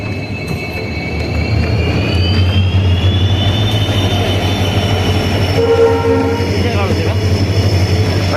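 A passenger train from Rajkot bound for Porbandar pulls into a crossing station on the line toward Veraval, its horn holding a long steady tone over a loud, continuous rumble of wheels and engine.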